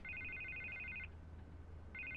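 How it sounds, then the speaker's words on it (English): A telephone rings in the Batman Telltale video game, two bursts of rapid electronic trilling separated by a pause, heard over a low steady hum with no talking. "I can't get the phone to stop ringing."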